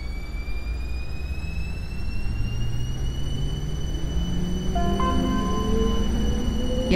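A metro train pulls away in the OpenBVE train simulator, its motor whine rising steadily in pitch over a constant rumble, with a few higher tones joining near the end.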